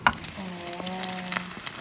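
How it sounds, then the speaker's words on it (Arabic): Eggs fry in a pan at home, a soft steady sizzle with small crackles, heard alone and fairly close. "هيك نحن بنكون خلصنا قلي البيض"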